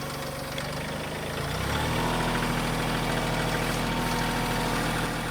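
A tractor engine runs at full throttle, a loud, steady, low mechanical roar that swells up after a quieter first second and holds without pause, with no talk over it.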